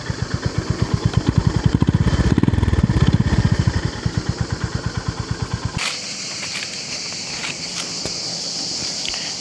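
A Honda GB350S single-cylinder motorcycle runs up close, its loud rhythmic thumping pulses rising and then falling away before a steadier, quieter hum takes over, with no talking.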